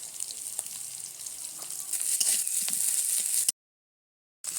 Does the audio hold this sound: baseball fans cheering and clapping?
no